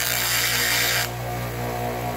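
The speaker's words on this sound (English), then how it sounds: "we're now going to grind the paint off of here so we can get a nice good weld" A power grinder whines loudly against the metal of a Cub Cadet mower, stripping paint before welding, then drops to a lower steady drone partway through.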